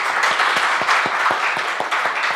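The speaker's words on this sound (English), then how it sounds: "Give Alex another round of applause." An audience at a business talk event applauds a guest speaker, a loud and dense burst of many hands clapping at once that holds steady for the whole moment.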